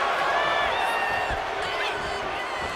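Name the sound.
crowd cheering at wrestling match in WWE 2K25 video game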